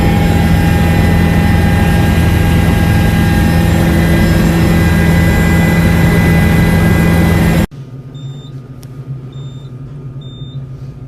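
A loud, steady engine roar with constant rotor hum fills the cabin of a helicopter flying over New York City, then cuts abruptly to a much quieter background.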